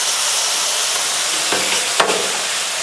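Pork and noodles frying on a griddle for drunken noodles, giving a loud continuous sizzle with a couple of brief scraping stirs near the end and no talking.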